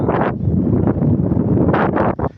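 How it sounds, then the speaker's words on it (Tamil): Strong, steady wind on a hilltop buffets the microphone with a dense roar and gusty bursts, loud and close throughout. "காற்று வேறு ரொம்ப பலம் மேலே இருக்கும்"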